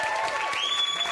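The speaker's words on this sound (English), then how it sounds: "Let's give him a round of applause." Studio audience applauding Ricky on the Trisha talk show, a dense burst of clapping heard up close with steady loudness and tonal studio hum running beneath it.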